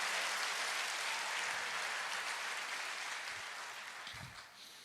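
A church congregation applauds during an evangelical sermon, a steady wash of clapping that fills the clip at moderate distance and slowly fades toward the end.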